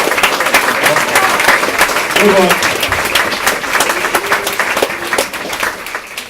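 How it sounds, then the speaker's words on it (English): Loud, sustained studio audience applause on the comedy video-game panel show Gamer Gamer, dense clapping filling the room throughout, with a brief spoken remark heard under it. "please a round of applause for Kerry for stepping in"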